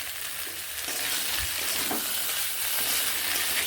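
Peas and potato ghugni masala with chopped tomato sizzling and frying in a pan as it is sautéed, a steady close hiss with occasional soft stirring scrapes.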